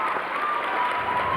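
A karate tournament crowd fills an arena with steady, sustained applause, a dense even patter of clapping heard alone throughout.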